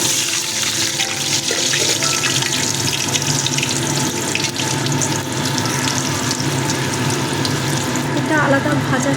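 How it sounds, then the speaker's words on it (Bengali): Pieces of radish drop into hot oil and fry with a loud, continuous bubbling sizzle that stays close and even throughout. "তেলটা গরম হয়ে গেছে, একটা একটা করে দিয়ে এবার ভেজে নেব।"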